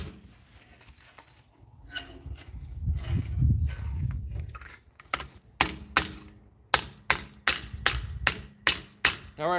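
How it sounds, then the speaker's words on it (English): A hammer smacks steel in a series of sharp metallic strikes, irregular at first, then settling into a quicker, steady rhythm of loud close blows. "Nothing more manly than going out and smacking steel with a hammer,"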